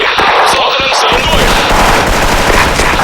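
Rapid automatic gunfire from a Counter-Strike style shooter, loud and continuous bursts crackling throughout with a dense rattle, a voice briefly calling out over the shots.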